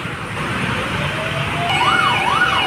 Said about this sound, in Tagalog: ito ang fire truck ng Ermita